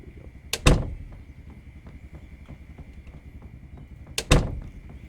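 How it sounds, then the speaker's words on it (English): A door is shut twice in the zombie survival video game Project Zomboid. Each time there is a sharp, close double knock-and-thud over a low steady background hum, about four seconds apart. "Why would he close the door?"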